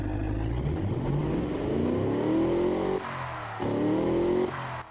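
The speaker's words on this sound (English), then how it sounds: "Listen to those blow-off valves of the turbo, though." A turbocharged luxury grand tourer revs in the BeamNG.drive driving game, with the engine note rising in repeated pulls that break off abruptly as the turbo blow-off valves release, loud and close, with no talking.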